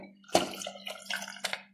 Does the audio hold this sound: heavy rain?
no